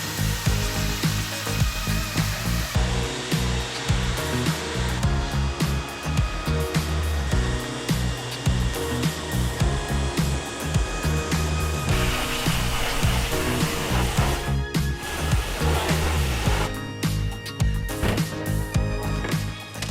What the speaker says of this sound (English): Quick and effective way is using a pressure washer.